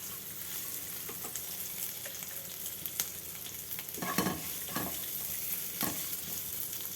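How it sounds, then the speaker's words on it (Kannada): Garlic, chopped green chilli and cinnamon sauté in ghee with a continuous soft sizzle, broken by a few sharper scrapes and clinks as a spoon stirs the pan, close up with no talk. "ಇದನ್ನು ಸ್ವಲ್ಪ ಚೆನ್ನಾಗಿ ಬಾಡಿಸ್ಕೊಳ್ಳೋಣ ತುಪ್ಪದಲ್ಲಿ."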